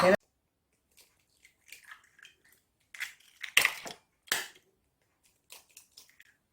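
Eggs cracked by knocking them together in a kitchen, giving a few sharp close taps and crunchy cracks with brief silences between them and no talking.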